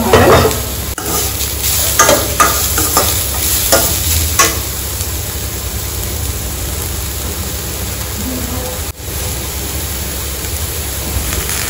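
Oats upma ingredients with a little salt fry in a pan, giving a loud, dense, continuous sizzle close by, with a flurry of stirring scrapes early that then settles into a steady hiss.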